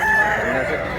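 A rooster crows in a short, loud, close call with a sustained tonal rise, part of a flock of white-legged gamecocks kept at Tabunok, Talisay, Cebu.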